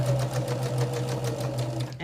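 A sewing machine stitches a quarter-inch seam joining half-square-triangle units of a quilt block, running in a steady, fast, even rhythmic whir that is close and loud throughout before stopping at the very end.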